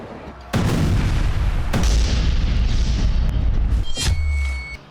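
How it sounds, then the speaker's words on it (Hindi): Loud explosions boom nearby in Gaza airstrikes, a sudden blast followed by another, with rumbling low-end roar and debris-like crackle trailing off. "पहला विस्फोट"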